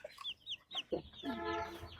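Young chickens peep close by in a rainy rooftop garden, with several quick rising and falling chirps followed by a longer, fuller call near the end.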